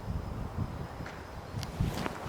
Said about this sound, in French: Putain, il y a du vent par contre.